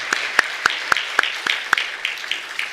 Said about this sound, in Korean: 우리 박수로 우리 축하 격려하겠습니다.